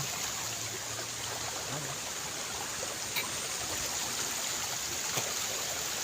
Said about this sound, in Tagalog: Pag malakas ang agos ng tubig to galing sa bundok